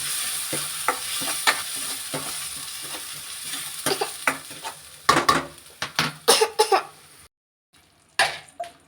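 Ground masala hitting hot oil for a black fish curry, sizzling steadily under scattered utensil clatter, building into louder scraping and clinking bursts near the end after a short pause.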